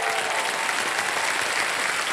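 Studio audience applauding a KBC game show contestant, a full, steady burst of clapping throughout the short span.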